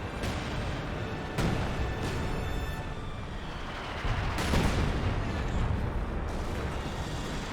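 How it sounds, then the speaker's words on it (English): Artillery fire in the video game Company of Heroes 2, a dense, continuous roar of distant booms with several heavier blasts swelling out of the din, loud and unbroken. "Got the artillery flare there."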